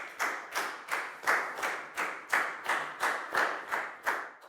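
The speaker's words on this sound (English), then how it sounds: "High five and a big round of applause for Net" A class of children claps for a student during an English lesson, about ten slow, evenly spaced rhythmic claps in unison, fairly close and clear.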